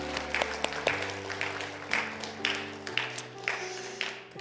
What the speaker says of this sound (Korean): 우리 한번 격려하는 의미에서 한번 박수 한번 할까요?